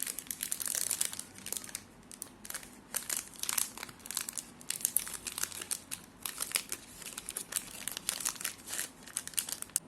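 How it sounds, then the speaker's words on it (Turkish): Crinkling plastic wrapper torn open on an Algida Oreo ice cream bar, a run of close, busy crackles and rustles in bursts for several seconds, no voices. "erimeden paketi açalım isterseniz."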